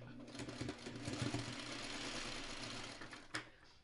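A sewing machine stitching quilt blocks runs in a fast, steady mechanical whir at low level, ending with a brief clack as it stops.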